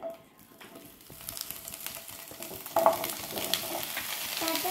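Paneer cubes sizzle and fry in melted butter, a steady crackle building through the clip with a few stirring scrapes and a brief louder clatter near the middle.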